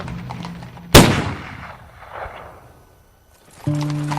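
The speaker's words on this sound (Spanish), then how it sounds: "El estruendo de un disparo sobresalta al caballo" A single sharp gunshot cracks out loud and close, its echo rolling away over a couple of seconds in the quiet night, followed by a low sustained tone near the end.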